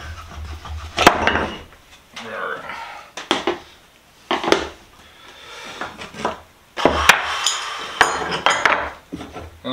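A chisel is hammered to drive a wooden wedge out of an antique leather-working vise during restoration, sharp knocks coming in irregular bursts, close and fairly loud, with someone talking in between.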